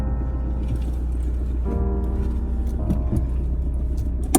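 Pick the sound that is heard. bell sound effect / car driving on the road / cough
car driving on the road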